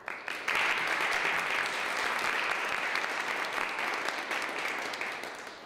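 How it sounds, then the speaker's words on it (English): Audience applause at a college fellows event at the Library of Congress, a dense, even burst of clapping from a room of people that holds steady for several seconds and tapers slightly at the end. "I'd like to take an extra moment of applause for you"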